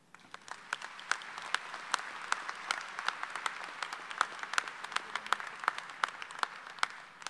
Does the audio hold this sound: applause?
yes